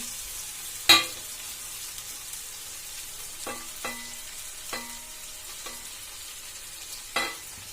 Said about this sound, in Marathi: पोहे टाकले मिक्स करून घेते